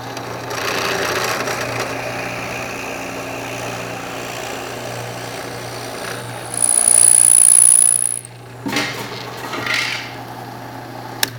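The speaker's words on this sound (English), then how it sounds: "bring the drill bit down through the material" A drill press motor hums, then the bit bites loudly through a wood block for about two seconds with a sharp whine before the noise drops away.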